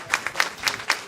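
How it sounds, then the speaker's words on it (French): Thin, sparse clapping from a small audience at a college presentation: a handful of separate claps spaced out over about a second, fairly quiet. "J'aurais aimé entendre ces applaudissements un peu plus nourris."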